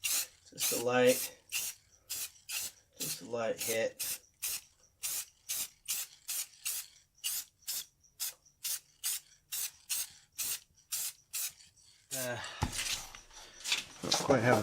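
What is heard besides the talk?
spraying finish on a wooden sign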